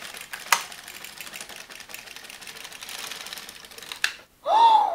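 Silver Reed LK 150 knitting machine carriage sliding across the needle bed: a soft continuous mechanical rattle with a few sharper clicks, ending abruptly before a brief voice.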